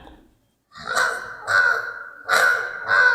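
A human voice mimics a crow, giving four loud, harsh caws in close succession, each a raspy nasal burst with brief gaps between, performed alone without talk.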